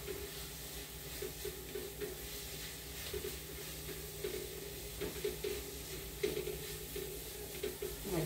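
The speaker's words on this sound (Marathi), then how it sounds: "चांगलं परतून घेऊया।" Spiced, salted filling for potato paratha sautéing in a pan, giving a steady low sizzle and hiss with soft stirring scrapes throughout, close by and fairly quiet.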